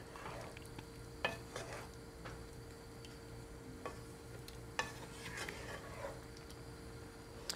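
Sweet potatoes being stirred and partly mashed in a pot over high heat, with scattered soft scraping knocks against a steady low background hum.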